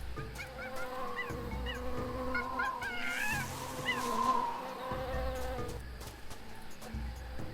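Buzzing bee sounds in the jungle of the adventure game Tales of Monkey Island, layered over a steady insect and animal ambience, swelling briefly in the middle, with no voices.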